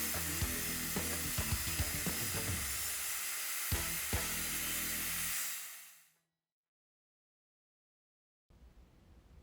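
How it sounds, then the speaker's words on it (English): A table saw cuts wooden panels to size for a bedside stand: a loud, steady broadband whir with scattered knocks and clatter for about five seconds, then it cuts off into near silence before faint noise returns. "I moved to the table saw. I cut the panels to their finished sizes"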